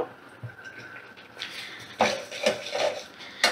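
Sugar is stirred into a sweet mango and chana dal dish, with a spoon clinking and scraping against the pot in several sharp knocks and scrapes that are fairly close and clear, with no talking.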